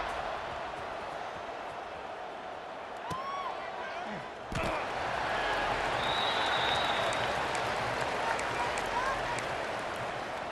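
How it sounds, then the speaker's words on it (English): A football game crowd murmurs and buzzes continuously in the stands, rising a little in volume partway through, with scattered claps, thuds and a sharp bang. "this crowd is buzzing after that last score"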